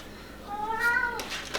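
A single drawn-out Siamese cat meow, rising and then falling, fairly close, against quiet room noise.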